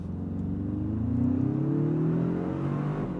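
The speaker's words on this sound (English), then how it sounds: "I'm going to move into the sport transmission setting and give it some brake boosting off the line." A 2026 Toyota 4Runner TRD Pro in sport transmission mode launching after brake boosting, its engine droning steadily as it accelerates, with rising tones of a gear climbing, heard from inside the cabin.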